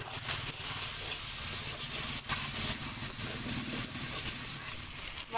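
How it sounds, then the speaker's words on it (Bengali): Spice paste with salt frying and being stirred in a pan for a koi fish and potato curry, a steady close hiss and sizzle with occasional spoon scrapes, no talk. "এবার একটু কষিয়ে নেব।"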